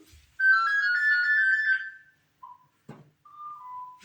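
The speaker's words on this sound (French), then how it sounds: "Je vais juste couper le téléphone." A telephone ringtone plays a loud, bright electronic tune for about two seconds, then falls quiet before a few short beeps and tones follow, with no talking.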